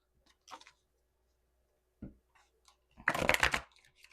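Tarot cards riffle and slap together in short bursts, with a brief rustle first and a longer, louder shuffle near the end in a quiet room.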